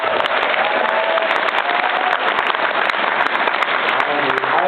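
A live audience at a PAX show breaks into sustained, dense clapping, loud and steady from start to finish.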